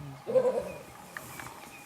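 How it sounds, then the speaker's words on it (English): A lion in the wild in Africa gives a brief low roar or growl near the start, moderately loud, then fades into quiet outdoor background with faint scattered sounds. "There's the lion."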